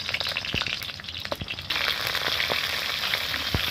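Onions drop into hot oil in a kadai and fry with a continuous close crackling sizzle, intensifying partway through, with scattered pops and utensil taps and no talking.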